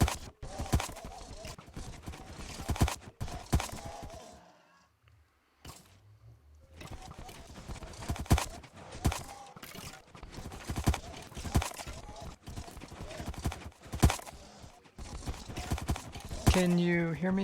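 Horses in a Minecraft vanilla survival farm keep up a busy, rhythmic clip-clop of many hooves, steady at mid loudness, while players talk over it.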